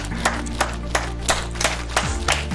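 Hands clapping in a steady, evenly spaced rhythm of about eight sharp claps during a live stream, over a continuous musical bed.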